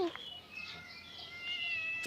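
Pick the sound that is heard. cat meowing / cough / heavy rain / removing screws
cat meowing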